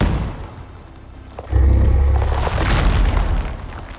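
A grenade goes off in the survival game Icarus: quiet rumbling ambience, then a sudden loud low boom at about 1.5 seconds that swells into a sustained rolling roar lasting to the end.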